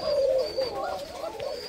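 A pair of white Koka pigeons coo close by in soft, throaty, repeated calls.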